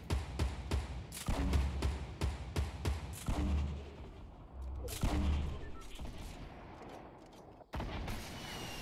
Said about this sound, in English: Oh, watch out, rocket.